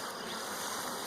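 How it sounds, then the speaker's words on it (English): Honey bees cluster and buzz at the front entrance of a nuc hive, a steady, close, continuous hum with no voices. "There's quite a bit of bees actually hanging off the front entrance where they're keeping cool."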